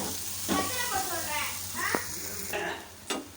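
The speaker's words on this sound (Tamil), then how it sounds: "அந்த எண்ணெயில் வந்து லைட்டாக ஒரு டூ டு த்ரீ மினிட்ஸ் கொஞ்சம் அப்படியே நம்ம வதக்கி எடுத்துக்கலாம்" A rice flour and urad dal mixture sizzles in hot oil as it is sautéed and stirred, a steady soft frying hiss with occasional scraping stirs. Someone speaks over it.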